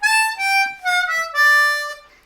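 Short blues harmonica phrase on a C harmonica, a few distinct notes stepping downward in quick succession with slight bends, close and fairly soft, fading at the end.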